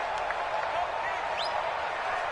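Stadium crowd in a PS4 football video game, a steady, broad roar of cheering and applause filling the space throughout, with faint whistles and shouts poking out.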